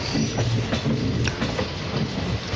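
A passenger train on the Koraput–Visakhapatnam line rumbles steadily along, with continuous loud rolling noise and faint rhythmic clicks of wheels over rail joints, heard from on board with no talking.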